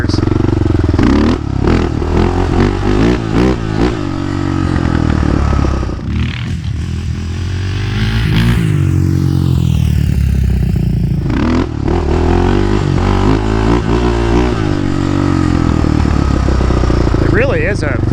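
A Yamaha Raptor 660 quad, revived after sitting abandoned for about five years, idles and revs with a throbbing, steady engine note up close, joined by some clatter and scraping.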